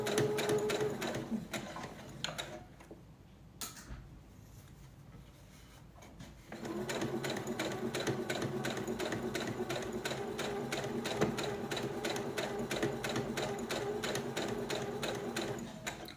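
A sewing machine stitches a tote bag in rapid, even bursts of stitching that pause briefly in the middle before running steadily again, close and clear with no talk.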